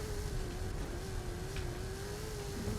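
A steady engine drone comes from a modified limousine in Forza Horizon 5's Hot Wheels snow setting, holding a near-constant pitch at moderate loudness with no talk.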